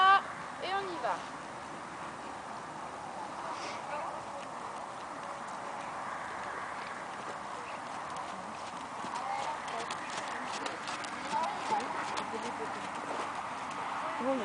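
Horse hooves clip-clop in an irregular rhythm during a riding lesson in an arena, moderately distant, with people talking over them.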